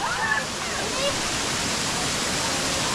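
Molinuco Waterfalls in Ecuador roar steadily at close range, a dense, unbroken wash of falling water filling the whole clip.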